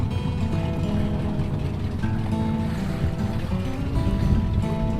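A twin-engine motorboat runs steadily on a lake, its engines producing a continuous loud drone with water rushing against the hull throughout, and no talk heard.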